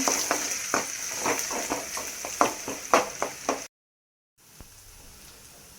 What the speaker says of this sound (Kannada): ಸಣ್ಣದಾಗಿ ಕಟ್ ಮಾಡ್ಕೊಂಡಿರೋದ ಈರುಳ್ಳಿ ಒಂದು ಸಣ್ಣದ, ಇದನ್ನು ಫ್ರೈ ಮಾಡಬೇಕು.